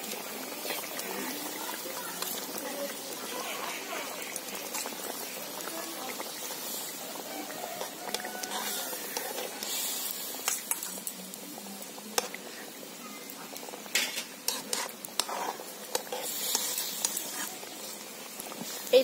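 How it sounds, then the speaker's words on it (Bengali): Hilsa fish curry simmering and bubbling in a pan as mustard paste is added, a steady soft sizzle and patter with occasional small splats, continuous and fairly close. "এই সময় এতে আমি দিয়ে দেব সর্ষে বাটা।"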